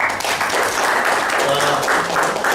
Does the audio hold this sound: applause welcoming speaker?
yes